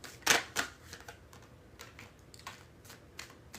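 Playing cards riffled during a live-streamed shuffle, giving a loud, brief burst of crisp flutter near the start followed by a second short riffle, then softer scattered ticks of cards being handled.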